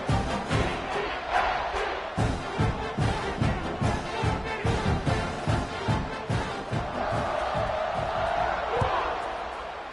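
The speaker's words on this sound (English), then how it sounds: "this crowd is buzzing after that last score" A football stadium crowd roars and buzzes after a touchdown in a Middle Tennessee State versus Bowling Green game, a dense sustained din with rhythmic thumping and cheering swells, plus a commentator's voice over it.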